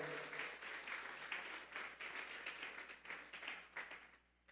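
A church congregation applauds God during a service, giving a sustained, dense round of clapping from many hands that holds steady and then tapers off at the end, heard at low volume.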